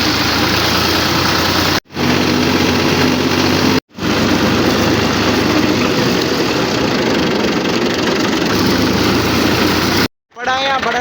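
A diesel tractor engine rumbles steadily at idle, close and loud, with brief cutouts in between; a voice speaks near the end.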